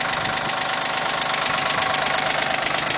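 A Cub Cadet tractor's diesel engine idles steadily just after start-up, a continuous close, loud rumble with a knocking tone and no break or change in pace.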